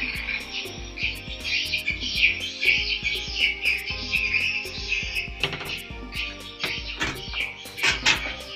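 A swiftlet-house calling sound played from USB storage: busy swiftlet calls, rapid high chirps and twitters repeating over a pulsing, clattering backdrop, fairly loud and continuous.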